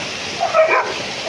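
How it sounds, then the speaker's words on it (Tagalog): A big dog gives a short yip or bark in a noisy outdoor setting with a steady background hiss, the call faint and brief against the ambient wash. "Yun aso. Ang laki ng aso."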